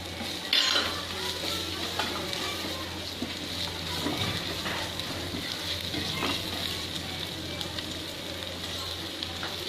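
Green and red chillies, ginger, garam masala and coriander powder sautéing in a pan for moong dal kachori filling, a steady close sizzle with occasional stirring scrapes and utensil clinks running throughout.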